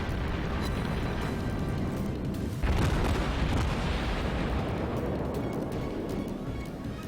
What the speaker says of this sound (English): I might switch back to fire full broadsides in a little bit